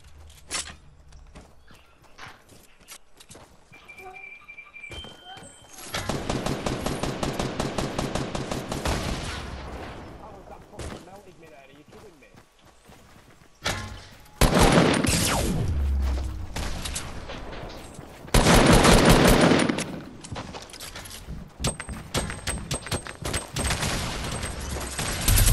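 Bursts of loud automatic fire from miniguns in a squads battle video game, several long sustained volleys separated by quieter stretches with scattered single shots and movement sounds.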